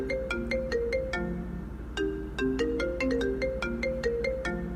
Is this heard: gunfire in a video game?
no